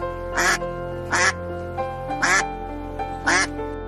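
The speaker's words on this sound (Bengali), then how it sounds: "রাজহাঁস" A goose gives four loud, nasal quacking honks, evenly spaced about a second apart and heard close with no other sound around them.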